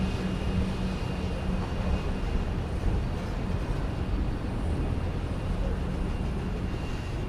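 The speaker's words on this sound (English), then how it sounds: "That's an Embraer" An Embraer 145 jet departs Dallas Love Field on a winter day, a loud, continuous roar of jet engine noise rumbling steadily through the whole stretch.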